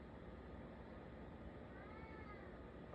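A house cat lets out a single faint, drawn-out meow midway through, over a quiet background hum.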